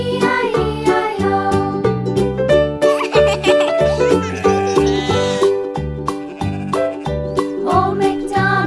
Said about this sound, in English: And on his farm he had some sheep, E-I-E-I-O.